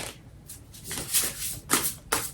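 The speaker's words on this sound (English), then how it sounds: "So let's actually shuffle and this one wants out." Tarot cards being shuffled by hand, a soft papery riffle with several brisk bursts of card slaps growing louder toward the end, close and alone with no talking.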